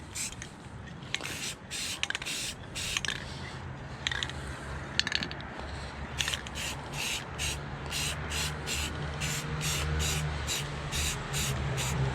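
Short repeated bursts of aerosol primer sprayed onto metal louver mounting brackets, a steady series of hissing puffs in quick rhythm, close and clear over a low background hum.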